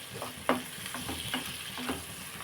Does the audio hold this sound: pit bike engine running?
no